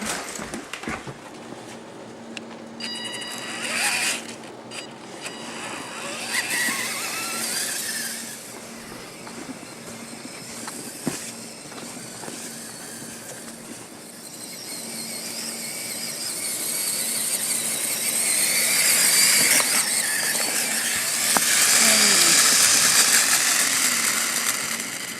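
A test EVA rover in a sandy setting driving off, its motor whining and rumbling with squeals and rattles that grow louder toward the end.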